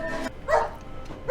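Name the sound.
dog barking in a movie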